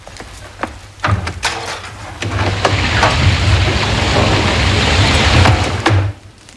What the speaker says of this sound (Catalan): Són les 11:05 i encara plou.